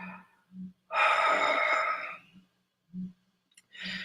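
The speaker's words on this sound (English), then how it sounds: "Take a deep breath." A long, deep inhaled breath swells loudly at close range during a guided meditation, framed by soft low hums and murmurs before and after, then a brief airy exhale at the end.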